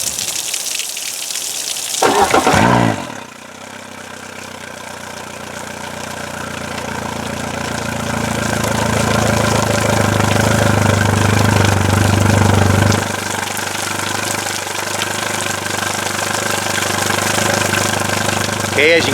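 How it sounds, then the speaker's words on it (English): A marine outboard motor idles steadily while being flushed with water, a continuous rumbling drone mixed with hissing, splashing water, preceded by a short burst of noise before it settles in. "I'm going to turn this on, and you're going to watch it run for a few minutes."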